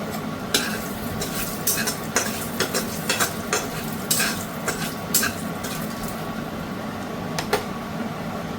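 Dried red chilli sizzling in hot oil for tempering, a steady frying hiss punctuated by frequent spatula scrapes and stirs against the pan, close and continuous with no talking.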